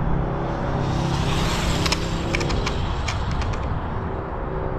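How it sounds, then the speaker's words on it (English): A truck passes along the road nearby: a steady, broad engine-and-tire roar that holds loud throughout and eases slightly toward the end, with no voices. "Wait for this truck to pass."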